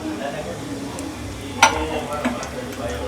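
Cumin seeds sizzle in hot oil for pav bhaji, a steady soft frying hiss with a sharp metallic clink of a utensil against the pan and a lighter tap after it.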